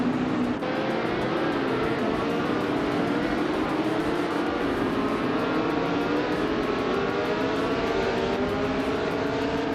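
Formula 5000 race cars in a racing video game, a continuous dense roar of several engines revving and shifting together, loud and sustained throughout.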